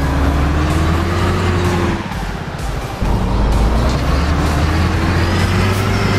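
An Isuzu NMR 71 truck in Euro Truck Simulator 2 drives with a steady, loud engine drone. A brief dip in the middle may be a gear change or a hiss from the air brakes. No one speaks.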